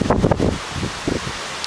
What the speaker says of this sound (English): We keep getting these little squalls of rain and gusts.